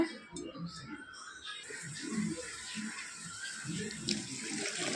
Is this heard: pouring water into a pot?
yes